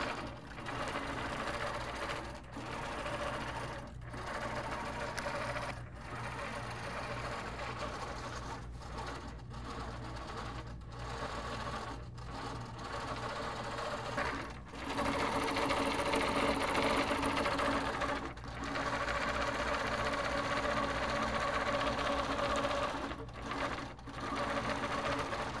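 An HQ Pro-Stitcher Premium longarm quilting machine stitches steadily, a continuous close mechanical whir with a rapid needle rhythm, briefly dipping and pausing several times before running on, with no talk.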